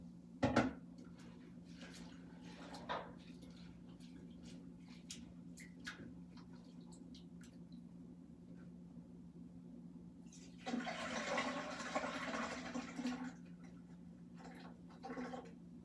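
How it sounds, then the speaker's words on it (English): Water poured off rinsing rice and the grains swished in a bowl, a quiet sloshing burst midway with soft clinks and a short splash near the start, alone without talk. "I'm just going to pour off that water and wash it again."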